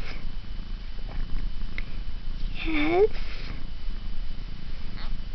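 A litter of young kittens purrs softly on a blanket, a low continuous rumble close by, with someone speaking gently over it and a brief high squeak.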